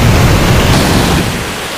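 A loud, roaring storm of crashing waves and rushing noise surges continuously in the video game Ao Oni 3, then eases slightly toward the end.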